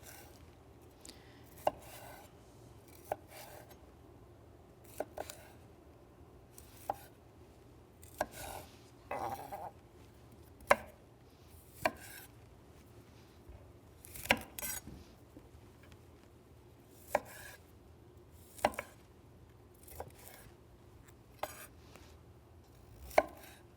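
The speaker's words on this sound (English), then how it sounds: "So just chop all the florets off, and some of them will need to be cut through the middle." A knife chopping broccoli florets on a cutting board, a steady series of sharp, close taps at irregular intervals with occasional softer scraping, no voices.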